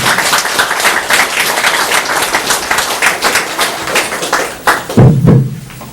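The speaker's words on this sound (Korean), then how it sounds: "박수 쳐주세요." A church congregation claps together at a founding service in Gunsan, loud, dense applause throughout, ending in a few thumps.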